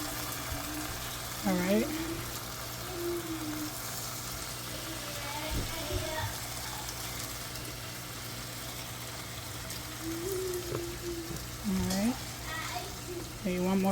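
Steak pieces searing in a hot pan for a pepper steak, a steady close sizzle running throughout, with someone talking intermittently over it.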